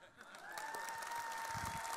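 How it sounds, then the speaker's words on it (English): Warm audience applause greeting a director onto the main stage at a conference opening, sustained clapping with some crowd cheering and a faint tonal hum, at moderate distance. "Please join me in giving a very warm welcome and round of applause"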